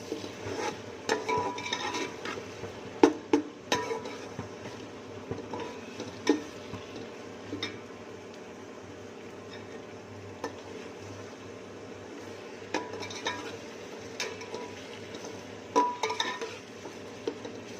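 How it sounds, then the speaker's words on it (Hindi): Tomatoes and spices being roasted in a pot for chana pulao, with a spoon scraping and stirring in irregular clatters over a steady low sizzle, fairly close and moderate in level. "अच्छे से हमने इसकी बुनाई करनी है, टमाटर अच्छे से गल जाए।"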